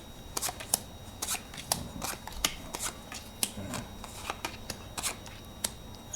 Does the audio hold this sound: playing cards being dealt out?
yes